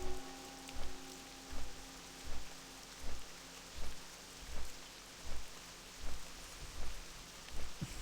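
Steady rain falls across the corrupted forest zone of Felwood in World of Warcraft, a constant wash of drops with a soft, regularly repeating low thump throughout and no voices.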